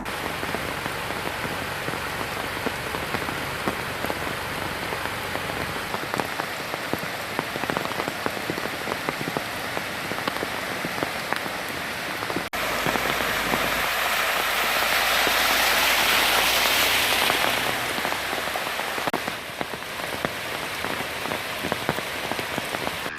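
Heavy, continuous rain pours down during days of flooding in low-lying areas, a dense, loud hiss of drops on surfaces that swells even stronger for a stretch midway, with no voices.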